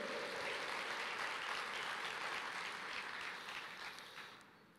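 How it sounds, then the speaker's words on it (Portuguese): A church congregation claps together in sustained applause, dense and fairly distant, tapering off slightly toward the end with no voices over it. "Quantos podem dar uma salva de palmas para o Senhor dizer"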